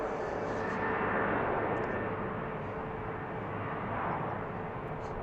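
An airplane departs from a runway at BWI airport, a loud, broad jet roar that holds steady and close for the whole stretch with no talking.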